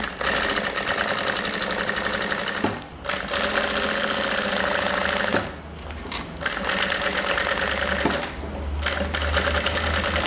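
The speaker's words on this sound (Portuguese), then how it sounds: "Começa com retrocesso. Faz um pontinho delicado, pequeno." A sewing machine runs in steady loud bursts while stitching a fine, small-stitch seam on bias binding, starting and ending with backstitch; short pauses break up the runs of rapid needle clatter, with no talk.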